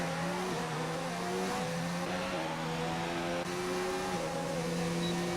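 An F1 race car's engine in a racing game screams from onboard at a steady high pitch, with rising revs and quick gear changes that drop the tone briefly before it climbs again, loud and continuous.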